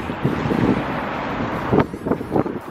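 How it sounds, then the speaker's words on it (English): Wind buffets the microphone during a bike ride along the Han River in Seoul, a low continuous roar with gusty swells, loud and close, with no talk. "So windy."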